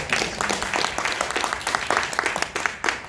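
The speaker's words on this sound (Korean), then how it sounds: "감사의 박수 부탁드리겠습니다." An audience at a lecture gives the professor a round of applause, dense and steady clapping from many hands filling the short stretch.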